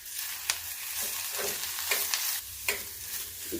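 Softened onions with turmeric stirred in a hot pan, giving a continuous frying hiss broken by scraping sweeps and a few sharp knocks of the spoon, close and fairly loud.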